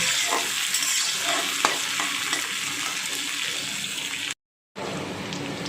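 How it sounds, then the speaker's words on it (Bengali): Prawns rubbed with salt and turmeric fry in oil with a steady crackling sizzle, broken by stirring scrapes and a brief cut to silence near the end, with no talking. "এবার মাছটাকে ভালো করে আমি ভেজে নিচ্ছি"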